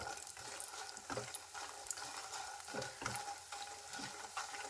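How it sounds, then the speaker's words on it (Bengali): Lentil dumplings (bori) fry in a pan with a soft, continuous sizzle, while a spoon stirs and scrapes them in repeated strokes about once a second; the sound is quiet and close. "বড়িগুলো ভেজে নিচ্ছি নাড়াচাড়া করে ভালোভাবে বড়িগুলো লাল রং করে নেব"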